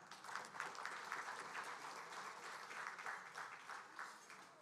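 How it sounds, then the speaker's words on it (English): Applause from the audience at a live Bahamas diaspora independence awards event, a steady, fairly distant wash of clapping that holds evenly throughout without any speech over it. "If you can give them a round of applause."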